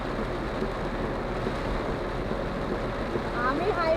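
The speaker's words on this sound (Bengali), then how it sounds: "প্রচন্ড বৃষ্টি হচ্ছে তো।" Heavy rain heard from inside a car driving on a highway, a constant dense drumming and road rumble with a faint tonal sound near the end and no clear speech.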